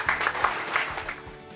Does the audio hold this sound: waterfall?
no